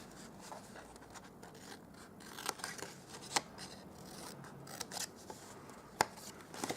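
Scissors snipping through cardstock while mitering the corners of a papercraft box, a quiet run of close, crisp cuts with several sharper snips standing out.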